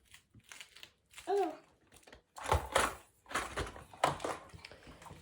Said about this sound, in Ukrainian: Все, закидаю все в рюкзак, збираю свої речі і їдемо.